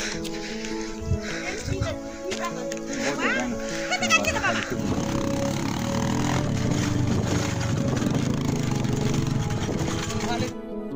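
Goats bleat in short wavering calls in the village of Mali Gaun near Bhaktapur, mixed with people talking nearby and outdoor background noise.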